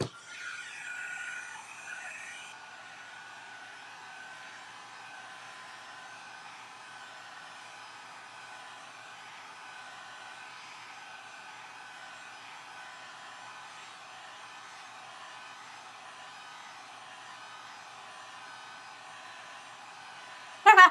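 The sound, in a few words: hair dryer drying a paper mache box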